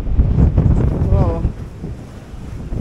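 Strong wind on St Vincent and the Grenadines after Hurricane Beryl buffets the microphone with a loud, gusty low rumble that eases slightly partway through, while a person speaks briefly over it.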